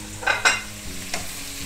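Thin-sliced medium onions frying in hot coconut oil in a pan, with a broadband sizzle and a few sharp stirring scrapes near the start and middle, close and moderately loud with no talking.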